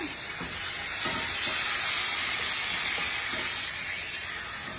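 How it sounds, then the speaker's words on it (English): The ends of a French onion stuffed pork loin searing in a hot pan make a loud, steady, hissing sizzle that holds evenly throughout, close up and with no voices. "So now I'm searing off my ends."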